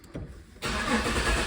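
Infiniti G37 engine cranking and catching after a quiet moment of small interior sounds, then settling into a steady, close idle rumble for the rest of the clip.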